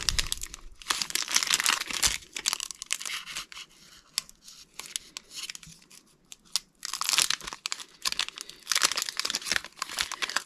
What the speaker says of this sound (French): Je m'applique même à ouvrir les boosters de façon propre.